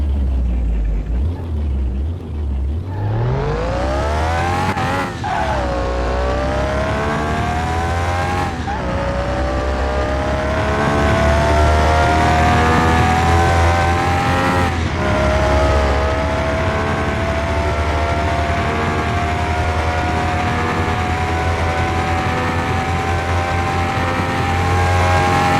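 A Nissan Skyline 2000 GT-R on a test track in Car Mechanic Simulator 2021 revs up from near silence into a loud, sustained high-pitched engine whine, with several gear shifts briefly dipping the pitch before it climbs again.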